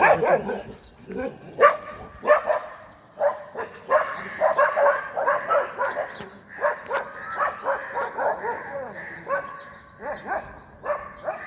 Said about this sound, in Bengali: এই কুকুরগুলা? এত বিরক্ত করে সকাল বিকাল।